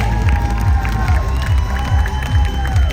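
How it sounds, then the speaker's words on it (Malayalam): An audience cheers and shouts for the Star Singer Season 9 winner, a dense loud crowd roar with scattered clapping and excited children's voices throughout. "എല്ലാവരും നന്നായിട്ട് കൈയടിച്ചേ."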